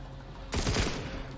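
Rapid burst of gunfire in The Walking Dead: Onslaught, a loud volley of several close shots that starts abruptly after quiet ambience and decays into echoing rumble.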